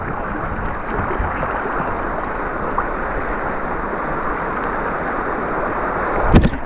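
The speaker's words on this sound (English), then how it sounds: "Made it to the first lot of rapids." Broad, steady rush of churning river rapids around a floating craft, loud and continuous with a brief splash near the end.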